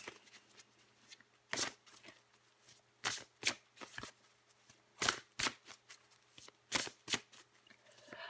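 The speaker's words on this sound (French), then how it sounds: "Je vais encore tirer une carte pour vous, les Sagittaires." Tarot cards shuffled by hand in a series of quick riffling bursts separated by short pauses, close and crisp, with a faint hum underneath and no talking.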